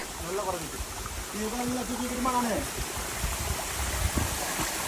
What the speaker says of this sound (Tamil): வாட்டர் ஃபால்ஸ் வந்தாச்சு, வாட்டர் ஃபால்ஸ் வந்தாச்சு